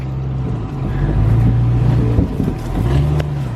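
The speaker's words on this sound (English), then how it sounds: "We're drifting the trail right now" A Jeep drifting on a dirt trail, its engine droning loudly and steadily with rising and falling revs and a rough, close rumble throughout.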